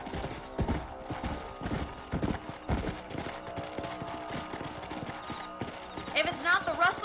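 Horse hooves galloping in the Red Dead Redemption video game, a fast rhythmic clip-clop running steadily throughout with a horse neigh near the end, heard under someone speaking.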